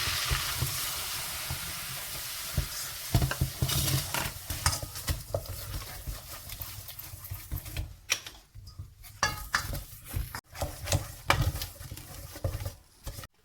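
A butter and flour roux sizzles and crackles in a pan while a utensil stirs and scrapes steadily, with rhythmic scraping strokes over the continuous frying hiss.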